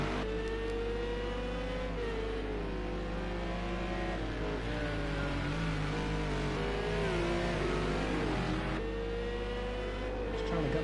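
GT3 race cars at Long Beach in a racing game, engines droning and revving continuously with shifting pitch as cars follow one another, under commentary.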